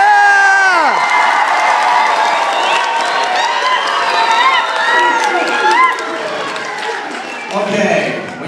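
Children in a school assembly clap and cheer loudly, with shouts and whoops rising over continuous applause; an adult voice sounds near the start and excited kids' voices carry throughout.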